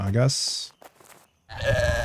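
A goat in the video game Pax Dei gives two nasal bleats, one short and one longer, separated by a brief pause.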